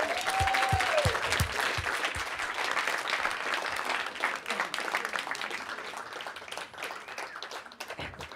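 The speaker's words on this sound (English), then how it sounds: "give them a round of applause" Audience applause fills a closing ceremony in New York, a dense steady wash of many hands clapping throughout, with a brief whistle near the start and some background voices mixed in.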